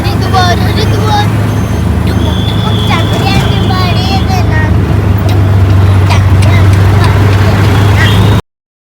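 Steady clip-clop of hooves during a horse ride carries on throughout, loud and continuous, mixed with traffic and road noise, while voices chatter nearby.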